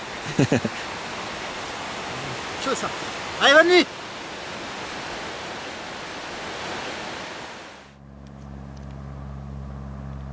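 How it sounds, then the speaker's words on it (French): A waterfall rushes nearby in a steady, broad roar on a mountain ascent near Mont Blanc. Brief speech comes in near the start and again partway through, then the roar suddenly cuts away. "surtout avec le bruit de la cascade juste à côté"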